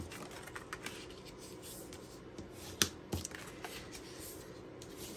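Bone folder rubbed along score lines on paper for a small treat box, giving soft, close scraping and brushing strokes with a couple of sharper rubs in the middle, no talking.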